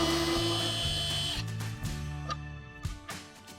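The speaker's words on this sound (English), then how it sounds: "we're going to use the electric screwdriver with the Phillips head bit to take off the existing handle" An electric screwdriver with a Phillips bit backs out the screws of an old handle, a close whirring motor run that cuts off partway and then gives way to softer handling clicks.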